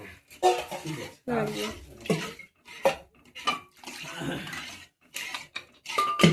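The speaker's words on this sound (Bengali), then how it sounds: "একটু জল দিয়ে দিলাম।" Water is poured into a cooking pot of tarka, splashing and clattering in bursts among pot and utensil knocks, with a person talking over it.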